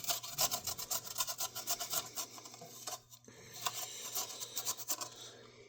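Garlic cloves are rasped quickly across a grater for a pizza topping, a close, steady run of scratchy strokes with a short pause midway before the grating resumes.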